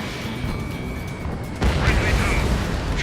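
A bomber is shot down in a flight combat video game, and a deep, heavy boom swells midway through over constant engine rumble and a voice on the radio.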